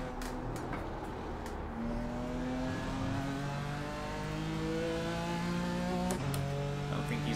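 A BMW race car engine in the iRacing sim at the Nordschleife revs steadily, its pitch climbing through gear after gear over a constant low drone, with a brief shift cut near the end and no talk.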